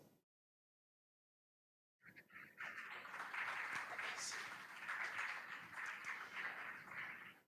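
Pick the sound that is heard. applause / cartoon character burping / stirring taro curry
applause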